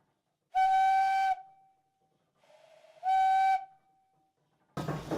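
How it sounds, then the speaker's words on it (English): Two long, loud blasts from a steam whistle on a wood-fired steam donkey engine, each about a second with a steady tone, separated by softer hissing steam, and a burst of steam noise at the end. "It carries a variety of whistles on it"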